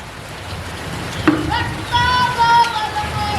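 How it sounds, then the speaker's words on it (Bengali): Steady rain hisses outside in a continuous wash, with a few brief tonal sounds rising over it near the end. "বাইরে প্রচণ্ড পরিমাণ বৃষ্টি পড়ে"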